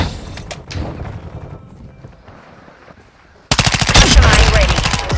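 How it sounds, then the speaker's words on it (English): Rapid automatic gunfire in a battlefield video game erupts loudly after a quieter stretch of scattered shots and booms, a dense burst of repeated cracks continuing to the end. "I'm taking fire."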